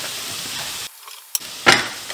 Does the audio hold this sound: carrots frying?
yes